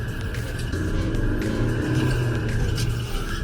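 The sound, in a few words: Proton Iriz Active car engine revving under throttle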